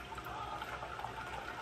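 Water being poured into a funnel during a children's ocean experiment, a steady close trickling stream with no talk over it.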